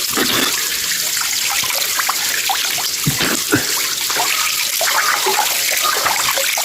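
Cold water rushes loudly and continuously at a wild hill resort, a close, broadband flow with splashes and no speech.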